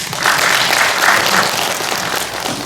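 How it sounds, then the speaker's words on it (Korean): Audience applause at a Democratic Party multicultural committee launch ceremony and policy talk show, a steady wash of clapping from a crowd that fills the whole stretch without pause. "큰 박수로 부탁드리겠습니다."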